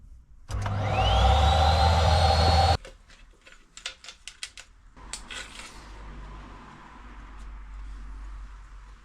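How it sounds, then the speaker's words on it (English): A vacuum cleaner hoovers up mess inside a VW Transporter T4 campervan during a furniture build, running loud and steady for about two seconds before cutting off, followed by scattered clatters and knocks. "on to the next job, which is hoovering up the mess"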